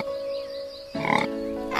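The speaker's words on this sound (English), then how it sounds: "pig" A pig gives a short burst of rough, rapid grunting oinks lasting about a quarter second, close and moderately loud, set between stretches of a steady tonal background with another faint grunt at the end.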